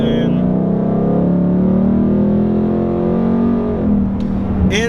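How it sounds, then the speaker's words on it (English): A 2018 Mustang GT with a 10-speed automatic accelerates from first gear, its engine note rising steadily and then dropping near the end as it shifts up, loud and close. "So we're gonna go ahead and roll on to the gas,"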